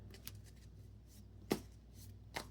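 A deck of playing cards for a hero deck is shuffled by hand, giving soft riffling with a few sharp card snaps spread through a quiet stretch.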